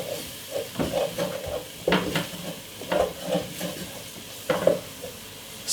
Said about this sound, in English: use my wooden spoon, and I have it on a medium size heat, and I'm making a nice lovely roux.